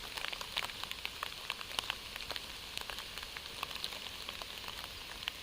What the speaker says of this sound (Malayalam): ഇപ്പോൾ സ്വല്പം മഴയും പെയ്യുന്നുണ്ട്.